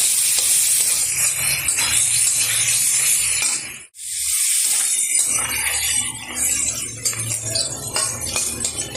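Chicken pieces with slit green chillies fry on high heat in a pan and are stirred, giving a steady, loud, hissing sizzle with scraping stir noises and a brief near-silent break midway.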